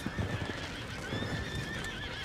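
Horses in the Red Dead Redemption western game whinny and clop along a road, steady hoofbeats running through the whole stretch beneath a drawn-out neigh, fairly close and at a moderate level with no talking.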